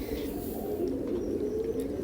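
A black Chinese pigeon gives soft, low cooing, steady and close.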